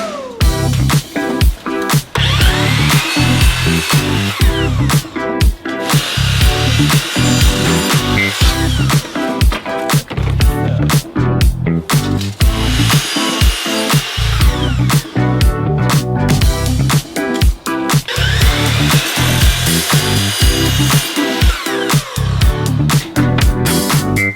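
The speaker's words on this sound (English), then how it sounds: "we went outside and set up my miter saw so I could start making cuts" A miter saw cuts wood boards outdoors, with repeated loud bursts of cutting and clattering across about twenty seconds, broken by short pauses between cuts.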